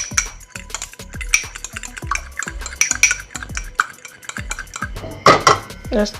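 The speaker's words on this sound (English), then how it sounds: "I'm gonna beat the egg up like this" A fork beating an egg in a bowl with a splash of sesame oil, quick rhythmic clinks and taps against the bowl, close and continuous.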